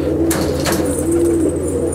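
Pigeons in a large loft of Andhra triplar birds coo steadily and close by, with soft repeated throaty calls layered over a constant murmur of the flock.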